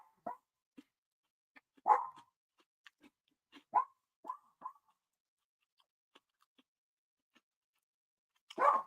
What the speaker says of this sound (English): The dogs are in the background